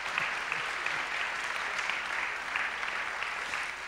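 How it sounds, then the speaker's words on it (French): Audience applause at an evening gathering for people of l'Arche de Grasse, a steady dense wash of clapping from many hands, moderately loud and continuous without talk. "On peut les applaudir."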